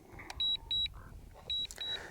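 A DJI Air 2S drone gives high-pitched electronic return-home warning beeps in two pairs, each tone short and clear, with a soft mechanical whir between them.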